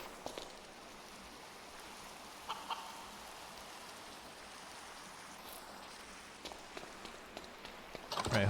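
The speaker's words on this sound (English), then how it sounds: "Wish I could turn off the rain." Steady rain falls in a video game, with a soft continuous patter, fairly faint and even, broken by a few brief clicks and a louder burst of noise at the end.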